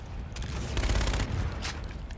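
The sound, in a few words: ship shooting at the player in Infinite Warfare, a video game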